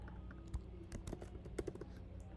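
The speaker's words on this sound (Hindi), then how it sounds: "मैं लिखता हूँ अरुण सिंह" Quick bursts of keystrokes come from a computer keyboard while a name is entered into an HTML table, close and fairly soft, with uneven clusters of clicks and no talk.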